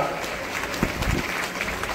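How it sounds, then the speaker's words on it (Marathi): Applause from the audience at a senior citizens' association gathering, honouring an elderly man after he sang a devotional song to Lord Ganesha; dense, steady clapping carries on evenly for a couple of seconds. "पुन्हा एकदा जोरदार टाळ्या त्यांच्यासाठी होऊ द्या।"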